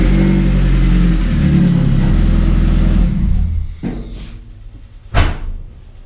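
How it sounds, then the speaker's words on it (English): A Mazda Miata engine, just refitted with a new cam angle sensor O-ring, runs loud and steady at first, then drops away, with two sharp blips of revving near the end. "and then we test fire it."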